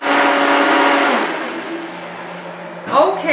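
A blender runs loud and steady, churning raw cheesecake batter made with coconut oil, then winds down and stops, followed by a brief clatter at the end.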